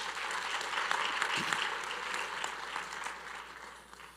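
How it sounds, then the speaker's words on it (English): Applause from an audience at a Mister & Miss HBCU competition and awards ceremony, a steady, moderately loud wash of many hands clapping throughout with a faint voice briefly audible. "Please give Dr. Kenneth Mitchell a round of applause in his absence"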